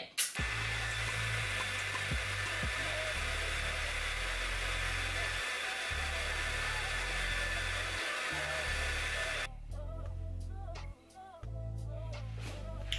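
A hair dryer blow-drying a scarfed wig gives a loud, steady close-up whoosh for about ten seconds, then dips and shifts as it is moved, with low talking faintly underneath.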